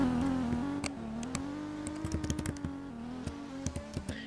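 A Mazda FD RX-7 in Untitled Drift Game gives a steady, droning exhaust note that holds a near-constant pitch and wavers slightly, with sharp clicking taps, like keys, scattered over it throughout.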